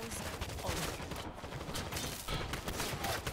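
Dense, continuous gunfire from the video game World War Z Aftermath fills the stretch, a steady rattle of overlapping shots with a player's voice faintly underneath.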